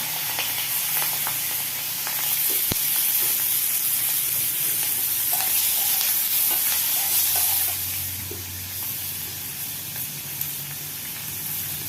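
Prawns frying in hot oil in a wok give off a loud, steady sizzle with stirring scrapes, easing slightly toward the end; no one talks.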